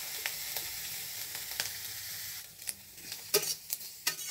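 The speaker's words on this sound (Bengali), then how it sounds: "চিংড়ি মাছের খোসাটা আমার ভাজা হয়ে গেছে" Prawn shells fry in a pan, giving a steady soft sizzle with occasional crackles and a few brief stirring scrapes, close by and fairly quiet, with no voices.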